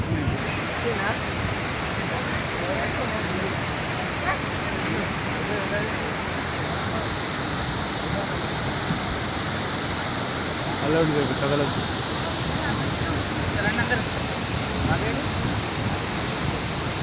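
Bogatha waterfall roaring steadily as a broad, constant rush of falling water, with a crowd of visitors chattering and voices passing nearby throughout.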